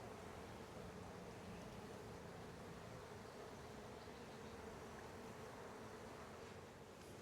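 Honeybees in a hive split with a virgin queen, a dense, continuous buzzing hum at low level, steady throughout with no talking.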